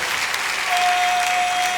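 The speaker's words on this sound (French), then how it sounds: "On applaudit très fort." An audience at a comedy show in a hall claps loudly and steadily, a dense, continuous burst of applause with no voices over it.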